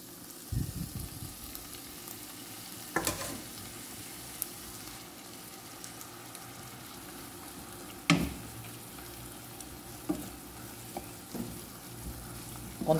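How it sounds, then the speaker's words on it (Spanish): Chicken broth poured into a pan of cooking ground beef for stuffed caigua, a steady low sizzle and bubbling with occasional sharper clatters of stirring, close and moderately loud, with no talking. "Vamos a echarle un poquito de caldo."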